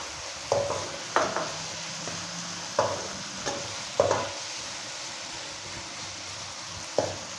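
Tomatoes added to a hot pan for chicken kothu parotta, with a low frying hiss under a series of sharp spoon clanks and scrapes against the pan at irregular intervals, close by, no voices.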